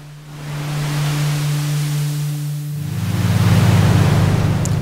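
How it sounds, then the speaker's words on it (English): Broadband synthesizer noise-generator waves swelling and ebbing like ocean surf, over a steady low drone that shifts to a rougher buzzing tone partway through. "We got the waves from the noise generator."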